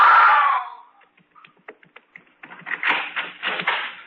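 A loud scream opens a scene in an old-time radio horror drama, cut off quickly, followed by sparse clicks and then a burst of excited, breathy sounds.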